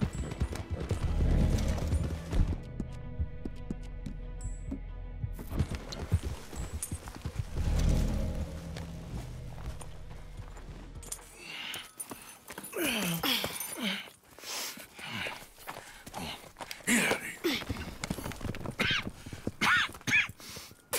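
Horses' hooves clip-clop in the video game Red Dead Redemption 2, a run of moderately loud, uneven footfalls over a busy game soundscape, then sharper scattered impacts later on.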